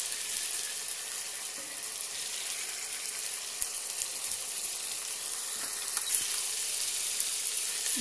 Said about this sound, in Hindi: हमें जो हमारा जिंजर गार्लिक पेस्ट है पूरा हम इसके अंदर डाल देंगे। इसको अच्छे से भून लेंगे।